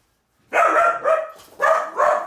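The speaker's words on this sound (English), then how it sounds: "That's my dog." A pet dog barks four times in quick succession at home, loud and close, each bark sharp and full with short gaps between.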